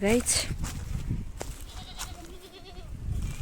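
Goats bleat on a hillside village farm among cattle, a few short wavering calls at close to middle distance over steady wind and background noise, with people talking nearby.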